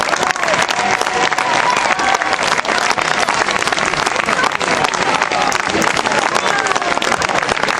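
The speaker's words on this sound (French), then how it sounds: "Un grand bravo, un grand merci à eux, sous vos encouragements et vos applaudissements." A large outdoor crowd claps and cheers steadily at a historical reenactment show, a dense, continuous wash of applause that holds at full strength throughout with no speech over it.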